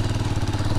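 A Halcyon 450 motorcycle with a dented exhaust header idles close by, a loud, steady, throbbing engine note lasting under a second.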